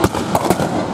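Sharp blank-gun shots during a live outdoor stage show in Bad Segeberg, about four loud cracks fired in quick succession within a second.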